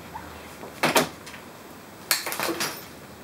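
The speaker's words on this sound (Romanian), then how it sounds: "cu cleștele șfic putem să tăiem cu grijă, să nu zgâriem, să nu tăiem conducte, cabluri și alte cele" Side-cutter pliers snip zip ties on bicycle packaging, giving two quick pairs of sharp snapping clicks about a second apart, close and clear against a quiet room.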